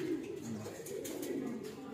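Pigeons coo softly at close range after being released from a loft, a low repeating warble lasting throughout with faint background noise.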